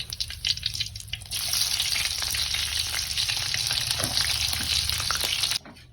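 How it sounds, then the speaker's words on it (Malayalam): Curry leaves and chili frying in hot oil give a loud, dense, continuous sizzle and crackle that swells after a quieter start and cuts off abruptly near the end, heard close up with no talking. "എണ്ണയിലേക്ക് കറിവേപ്പില ഒന്ന് പൊരിച്ച്"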